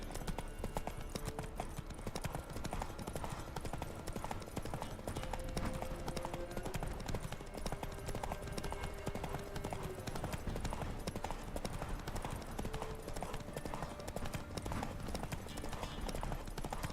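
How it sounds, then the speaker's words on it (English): A horse gallops in the video game The Witcher 3: Wild Hunt, its hooves keeping a steady, rapid clip-clop rhythm throughout, fairly quiet beneath the game's ambience. "Run, Roach"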